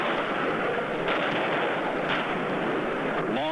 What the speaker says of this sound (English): Long-range Israeli artillery, sending shell after shell into southern Lebanon